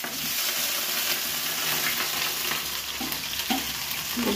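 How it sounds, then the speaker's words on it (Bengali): Chili chicken frying and bubbling in a pan at home, a steady close sizzle with occasional spitting pops and no voices. "জল আছে তাই ফুটছে"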